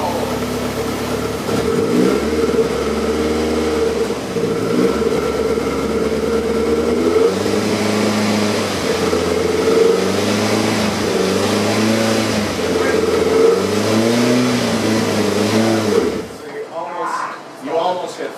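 A 1983 VW Rabbit GTI engine in gear on a dyno, revving loudly in repeated rising and falling pulls with a steady drone between, ending abruptly into quieter mechanical noise.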